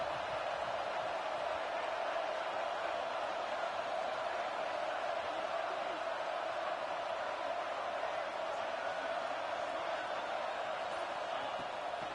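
Crowd noise fills a stadium in a football video game, a constant, even roar of many voices blended into a dense wash, steady and unbroken with no distinct announcer speech.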